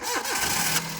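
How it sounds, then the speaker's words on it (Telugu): A 2013 Maruti Suzuki Alto 800 LXi petrol car cranks with a short starter whir, then its engine catches and settles into a steady idle, fairly quiet and close, with no talk. "బండి స్టార్ట్ చేయి"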